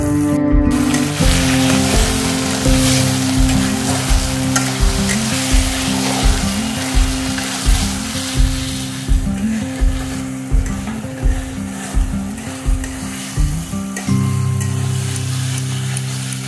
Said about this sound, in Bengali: তো আমি মশলা গোলানো জলটা দিয়ে আবারও কষিয়ে নেব।